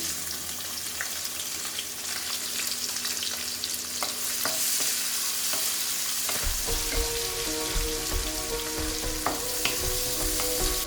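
Onion fries in a pan with pepper and cumin for a Kerala-style mushroom gravy. A continuous loud sizzle runs throughout, with scraping stir strokes and a shift in the frying texture partway through.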